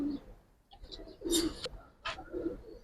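Giribaz and coloured pigeons coo in a few soft, rounded phrases at close range, with brief higher chirps and faint background noise between calls.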